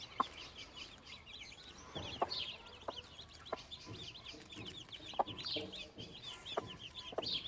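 Backyard chickens, including Australorp pullets, cluck and chirp in a steady, overlapping chatter of short calls, close and moderately quiet, with no talk over it.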